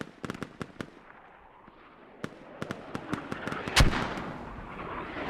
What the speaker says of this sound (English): Now mortars coming in on the north side.